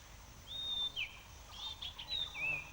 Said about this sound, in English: That's a jungle myna.